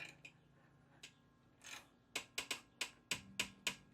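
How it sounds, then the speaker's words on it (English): A ratchet tightens a 12mm bolt on a Subaru Forester during a serpentine belt replacement, giving a few soft clicks and then a steady run of sharp, evenly spaced ratcheting strokes close by. "We're going to tighten up our 12mm bolt down here to secure the other bolt in place."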